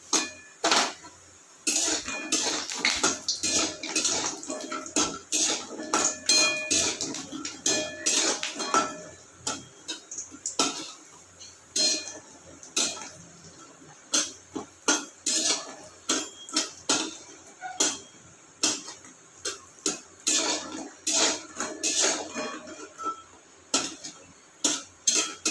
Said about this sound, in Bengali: ভালো করে একটু ভেজে নেবো বড়িগুলো